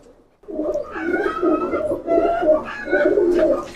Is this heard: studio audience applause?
no